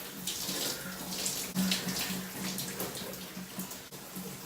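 Tap water runs steadily into a sink while a face is rinsed, a soft continuous splashing stream close by with faint irregular splashes.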